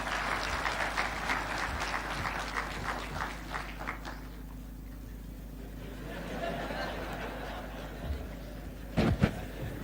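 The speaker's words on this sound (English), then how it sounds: "Another round of applause for the chair." A burst of applause from a conference audience, dense clapping that thins out and fades, followed by quiet murmuring and a few isolated claps.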